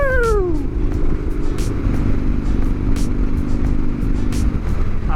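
A 2003 Harley-Davidson Sportster 1250 with a freshly rebuilt top end, ridden on the road, with a steady engine drone under wind rumble and a brief descending whine at the start.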